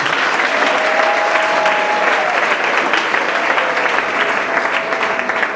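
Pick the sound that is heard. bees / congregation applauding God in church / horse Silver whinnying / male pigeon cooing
congregation applauding God in church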